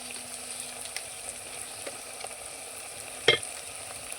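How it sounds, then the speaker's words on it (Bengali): Onions frying in oil for a country rooster curry, with a soft steady sizzle and faint scraping stirs, then one sharp clatter of the spoon near the end. "এভাবে পেঁয়াজটা যতক্ষণ না গলছে এভাবে নাড়বো।"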